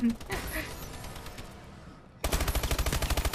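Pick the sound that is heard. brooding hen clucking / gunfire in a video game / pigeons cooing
gunfire in a video game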